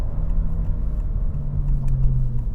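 A 2025 Honda Civic Si taking a turn at speed, its steady engine drone and road rumble filling the cabin with a low, even roar and no voices.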